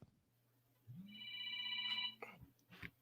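A telephone rings once in a steady electronic tone lasting about a second, fairly close, with a low background hum and brief noises after it.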